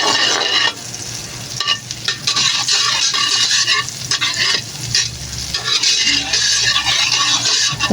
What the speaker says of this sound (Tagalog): pag mainit na yung kawali, siyempre, ilalagay natin yung butter. Yan, papatunawin natin siya